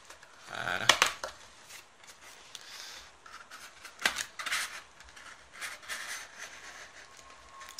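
Someone opens a Pokémon card display box with faint crinkling, tearing and scraping of cardboard and plastic wrap in scattered short bursts, close up and quiet.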